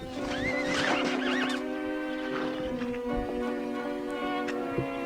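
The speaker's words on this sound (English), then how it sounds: "Down goes the horse." A horse whinnies loudly in a TV scene as it goes down, with a long neigh followed by snorts and scattered hoof clatter, fairly close and without speech.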